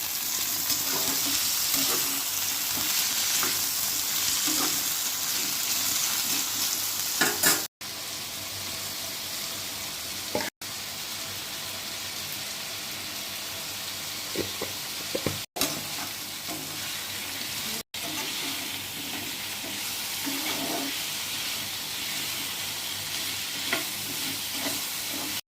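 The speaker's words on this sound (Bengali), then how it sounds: "অল্প নুন হলুদ দিয়েই আলুটাকে ভালো করে লাল করে ভেজে নেব।" Diced potatoes fry in hot oil with salt and turmeric, a loud, steady sizzle close to the pan, broken by a few stirring scrapes and short cuts in the sound.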